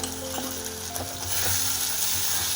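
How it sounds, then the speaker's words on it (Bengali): Spice paste with chilli powder and Kashmiri chilli powder frying and being stirred in a pan on high heat for a duck egg curry, a steady close sizzle with faint spoon scrapes and no talk. "এবারে মশলাটা আমি ভালো করে কষে নিচ্ছি।"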